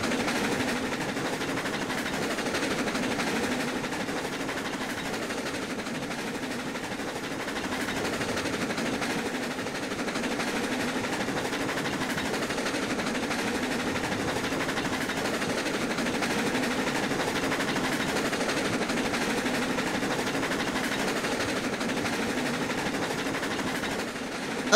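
Train rolling on rails in the game Railroads Online: a steady, continuous rumble and clatter of wheels that stays even throughout, with no voices.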